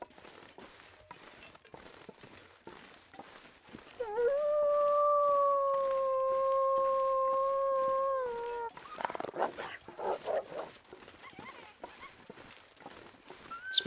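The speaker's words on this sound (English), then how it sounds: "Spook that wolf, apparently." A wolf howls in the survival game The Long Dark. There is one long, steady, mournful howl of several seconds, fairly distant over quiet background noise, followed by faint rustling and scattered clicks.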